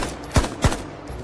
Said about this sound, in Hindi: सप्रेसर लगी राइफलें उठी। एक साथ 2 गोलियां चली।